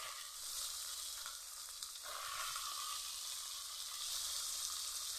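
Potatoes hit hot oil in a frying pan and sizzle steadily, a constant bright crackling hiss that stays close and fills the whole stretch, with faint stirring underneath and no talk.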